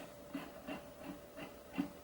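Soft, dull palm-muted strums on a ukulele, four or five short percussive chucks spaced evenly, faint and close, with no ringing notes.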